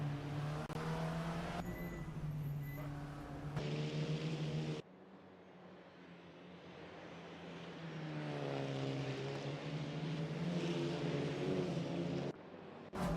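Volkswagen Polo race cars in an SMSA Supa Polo Cup race drone past on the track. Their engine notes rise and fall in pitch as they pass, and abrupt cuts break the sound between cars.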